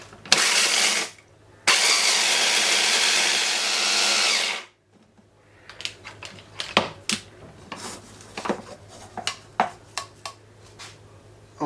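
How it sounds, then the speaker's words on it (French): An electric spice grinder whirs loudly in two bursts as it grinds coriander, garlic powder, cumin and oregano, then the lid and jar clatter and knock in sharp clicks. "On va moudre tout ceci."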